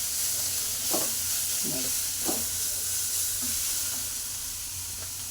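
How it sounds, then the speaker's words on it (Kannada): Sabbakki greens frying with turmeric powder and salt in a pan, a steady broadband sizzle with a few brief scraping stirs, close and continuous, with a single short spoken word. "ಅರಿಶಿನ ಪೌಡ್ರ್ ಹಾಕಿ ಉಪ್ಪು ಹಾಕಿ ಸೊಪ್ಪು ಫ್ರೈ ಮಾಡ್ಕೊತಾ ಇದ್ದೀನಿ."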